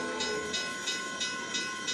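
A model train runs on a club layout with a steady rolling hum and a regular beat of wheel clicks close by. A faint hiss sits over it and there is no speech.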